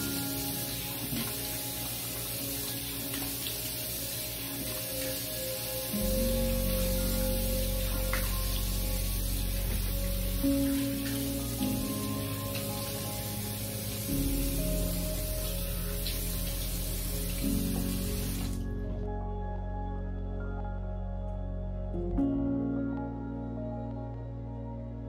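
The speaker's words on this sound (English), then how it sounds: "I usually try to massage my face for about a minute just to make sure I'm getting everything clean, and then going ahead and rinsing it off" Shower water runs steadily while a face is rinsed, a continuous hiss lasting about eighteen seconds before it stops abruptly, with soft music playing underneath the whole time.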